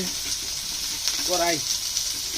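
Chopped onions sizzle and fry in a hot karai at an outdoor picnic cookout, a steady close crackle of oil with a brief faint voice-like tone passing over it.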